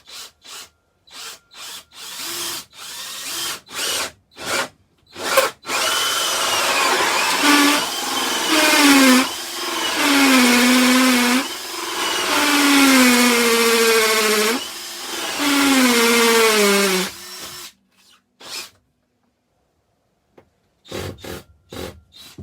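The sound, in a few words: hammer drill drilling through camper floor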